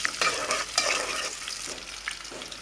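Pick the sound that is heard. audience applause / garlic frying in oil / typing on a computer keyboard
garlic frying in oil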